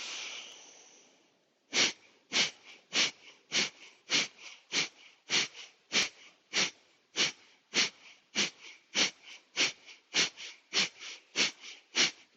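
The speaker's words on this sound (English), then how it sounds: "and off we go, 20 breaths." A long steady inhale gives way to a rapid series of forceful, evenly spaced breaths pushed through the nose during a yoga breathing exercise for the core. The bursts are close, loud and sharply rhythmic, with no talking.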